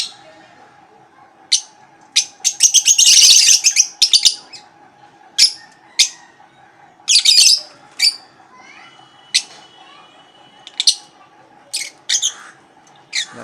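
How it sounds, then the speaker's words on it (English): Lovebirds kept as a flock in a cage give repeated bright, sharp chirps and tweets in short bursts, with a dense flurry of calls near the start and scattered single calls after, over a low steady background hum. "The lovebirds are very active. They keep moving and they utilize all the space available in cage."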